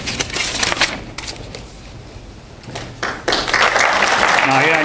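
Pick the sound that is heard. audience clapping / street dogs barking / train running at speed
audience clapping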